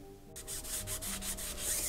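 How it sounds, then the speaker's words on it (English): A cutter grinds inside the ports of an engine cylinder head, making a short run of rhythmic rasping passes up close after a quiet start. "Using a cutter like this or something similar, cut the inside of the ports."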